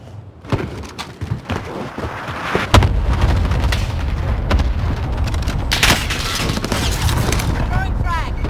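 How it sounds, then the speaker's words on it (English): Cluster strike explosions in Call of Duty Warzone land as a series of booming impacts and thuds, building into a continuous loud rumble, with game voice callouts spoken over them. "Enemy cluster strike incoming."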